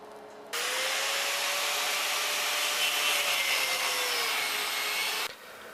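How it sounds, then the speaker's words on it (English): A disc cutter bites into a steel bar being cut for a blacksmith's flint striker: a loud, steady whining grind held for about five seconds, then cut off abruptly, close up with no talk. "the two parts are separated with the disc cutter"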